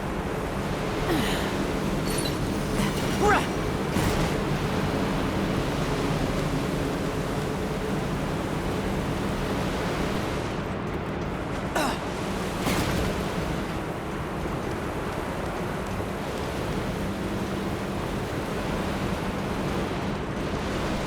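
Water rushing and rising in Remnant 2, a continuous broad roar like surf with a steady wash of noise and a few faint clicks over it, no speech.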